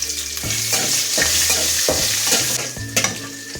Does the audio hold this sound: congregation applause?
no